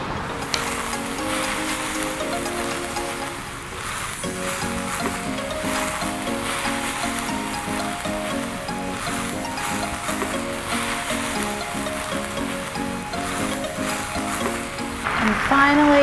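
Noodles, Chinese young kale and stir-fry sauce sizzle and crackle steadily in a hot pan with pork, a continuous frying hiss with occasional stirring scrapes, accompanied by soft background music throughout.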